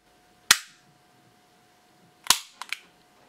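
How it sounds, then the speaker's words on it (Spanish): Glock 26 and Glock 17 pistols cycling their mechanisms, heard as one sharp metallic snap followed by a pause and then a quick cluster of three crisp clicks, close and loud against a quiet background. "Vamos a ver si se escucha el sonido. Glock 26, Glock 17, a ver si el sonido ha cambiado."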